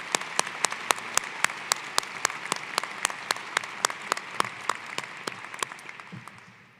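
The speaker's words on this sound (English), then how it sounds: "Let's have another round of applause for today's recognition ceremony keynote speaker" Audience applause at a College of Engineering and Computing commencement ceremony, with a few sharp, distinct claps standing out over a softer crowd clapping that stays steady for several seconds before fading.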